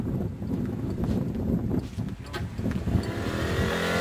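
A cheap old Buick car drives along with a rumbling engine and road noise, loud and close throughout, with clattering and a brief rise in pitch near the end.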